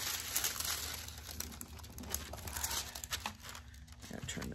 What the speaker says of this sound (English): Give it a little rub, and I've metalized the stand now with the foil